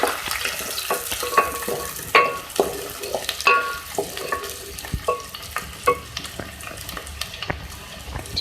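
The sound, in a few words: onions frying in oil, being stirred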